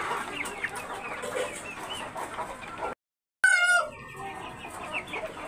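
Hill chickens clucking and calling close by on a farm, steady overlapping clucks, then a short silent gap and a louder, clearer rising call from one bird, with no talk.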